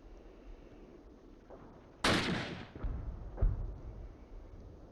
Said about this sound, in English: That mortar fell.